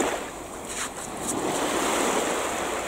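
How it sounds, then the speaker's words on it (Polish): Rough, aggressive sea waves breaking on a Polish seashore, a steady broadband roar of surf with some wind noise, building slightly louder midway and continuing without pause. "agresywna ta woda."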